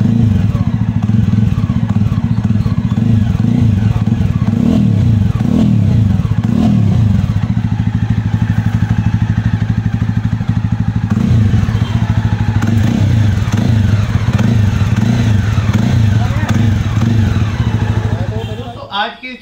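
A Jawa motorcycle fitted with an accessory exhaust silencer idles with a steady, deep low thump, throttle blips giving rising revs near the mic before the engine note fades out at the end.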